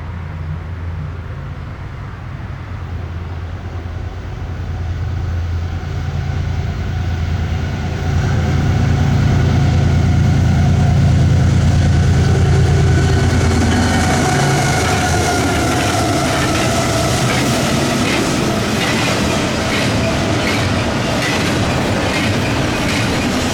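A Norfolk Southern freight train, with a Union Pacific AC-44 locomotive trailing second, rolls past on the NS Chicago Line. The engine rumble swells and then gives way to a long, loud, steady clatter of wagons, with faint squeals.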